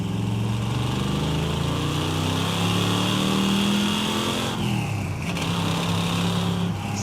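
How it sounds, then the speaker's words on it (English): Chevrolet El Camino engine roaring under hard acceleration, loud and close with a steady rising drone, tires spinning and the car shuddering through wheel hop, the pitch dipping and surging midway as traction breaks and catches. "Acceleration's pretty good in second gear, but when you get those tires spinning, you can just forget about it."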